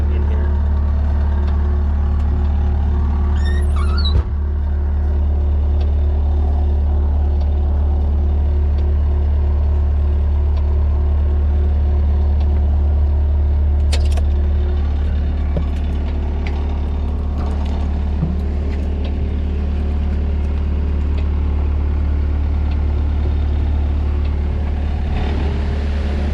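A Bobcat T190 skid steer diesel engine idles loud and close in a steady, even rumble, with a brief metallic clank early and a sharp tick midway.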